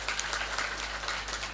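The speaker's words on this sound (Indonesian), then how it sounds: "Saya minta tepuk tangan dulu kangge Pondok Pesantren Al Husna yang begitu luar biasa." An audience at an Islamic boarding school event claps in dense, steady applause that fills the whole moment, loud and continuous with no clear voices above it.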